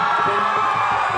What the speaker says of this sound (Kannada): ಸೊ ಇದಕ್ಕೆ ನೀವೆಲ್ಲರೂ ಇನ್ನೂ ಜೋರಾಗಿ ಚಪ್ಪಾಳೆ ತಗೊಳ್ಬೇಕು